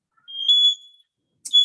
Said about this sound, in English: apparently the smoke alarm has just gone off in my house.